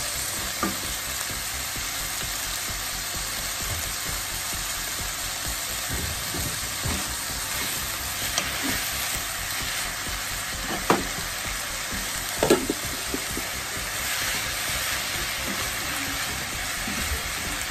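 Chicken and carrots sizzle and fry steadily in a pan for a birthday meal, with occasional clinks and scrapes of stirring, close and continuous.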